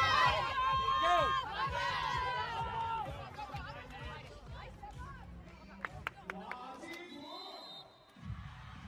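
Crowd at a women's volleyball match, Vakifbank Istanbul against Volero Le Cannet, roaring and cheering loudly, then settling into arena babble with a commentator talking over it.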